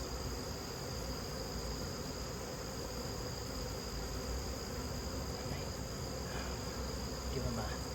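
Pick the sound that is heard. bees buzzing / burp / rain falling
bees buzzing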